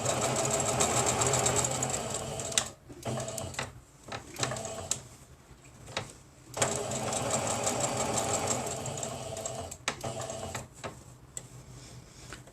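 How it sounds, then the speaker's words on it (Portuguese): A sewing machine stitches white thread on a small Christmas boot-shaped cutlery holder, running in loud rapid bursts broken by short pauses, close and without talk. "eu tô costurando com linha branca, para depois aparecer as outras partes"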